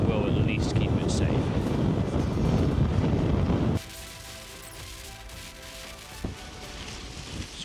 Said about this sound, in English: Oh, putting up a tent in the wind and the rain.